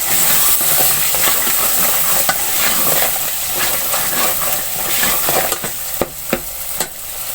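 A spice mix containing turmeric is stirred and fried in a pan with a steady sizzle, while a spoon scrapes and taps repeatedly, the clicks growing sharper toward the end. There is no speech.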